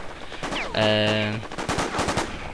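A burst of rapid automatic gunfire from the shooter game War Inc. Battlezone rattles loud and close, then tails into a few scattered shots and clatter.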